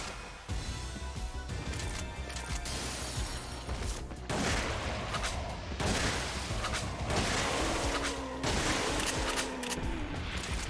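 Rapid, sustained gunfire in the video game Resident Evil: The Umbrella Chronicles, a loud continuous barrage of shots with crashing, shattering impacts mixed in, running nearly nonstop from start to end.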